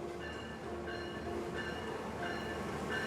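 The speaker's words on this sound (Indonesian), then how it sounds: "Ini kereta stainless steel yang baru ini." A new second-generation stainless steel Taksaka passenger train rolls in with a steady low rumble and faint, regularly repeating tonal hums and clanks, heard at moderate distance.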